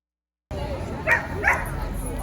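Dogs bark twice in quick succession, sharp and fairly close, at an outdoor community dog mixer event, over a low background of crowd chatter.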